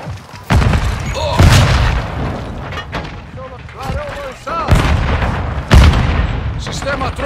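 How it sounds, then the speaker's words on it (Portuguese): Grenade explosions in a video game, several heavy booming blasts in an irregular sequence with crackling debris between them, loud and close, mixed with game sound effects. "Granada! Clarão lançado!"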